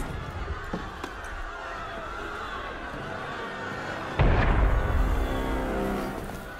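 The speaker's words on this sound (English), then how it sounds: "That was cannon fire." Cannon fire in the video game Assassin's Creed Unity: a single heavy boom strikes partway through a steady background murmur and then settles into a louder rumbling bed.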